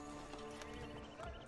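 Horse in Assassin's Creed Brotherhood, a brief burst of hoof clip-clop with a faint whinny, close, over a steady game background.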